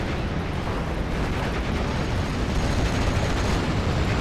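A mortar shell bursts among clumped infantry in the World War II strategy game Steel Division: Normandy 44, heard as a loud, dense, continuous roar of blasts and rumble with no speech.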